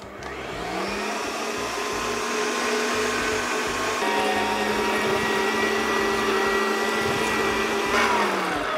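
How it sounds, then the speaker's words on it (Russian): An electric meat grinder minces raw chicken for patties in a home kitchen, a loud steady motor whine running continuously for several seconds, close and unbroken, with no speech. "сейчас я это измельчу в мясорубке"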